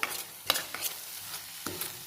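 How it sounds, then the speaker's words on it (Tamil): A spoon scrapes and stirs thick paneer masala gravy in a pan over medium heat, producing soft irregular scraping strokes with faint sizzling and no voices. "அந்த அளவுக்கு கிண்டுங்க, கை விடாமல் கிண்டுங்க"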